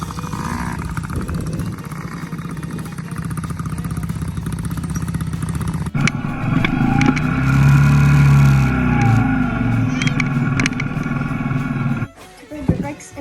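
Children's dirt bike engines rev and idle nearby in an outdoor dirt lot, a steady motor drone that grows louder and rougher after a sharp clack midway, then drops away near the end.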